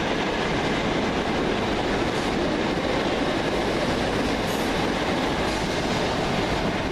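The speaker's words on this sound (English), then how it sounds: "Next train out, the 1714 Govia Thameslink service from Three Bridges to Bedford." A Govia Thameslink passenger train rumbles steadily through Farringdon station at close range, a continuous loud roar of wheels and carriages with no voices.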